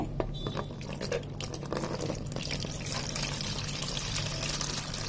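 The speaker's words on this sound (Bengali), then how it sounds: "এর মধ্যে দুধটা ঢালে নিচ্ছি" Milk pours steadily into a small pot, a continuous splashing, gurgling stream heard up close against faint background noise.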